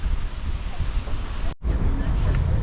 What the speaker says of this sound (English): It's quite windy here in the bay